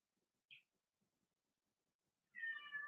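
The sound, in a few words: cat meowing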